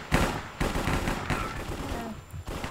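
Gunfire in the blocky Minecraft Cops and Crims minigame, a busy run of sharp repeated shots in several bursts across the moment, fairly close and loud with game noise around it.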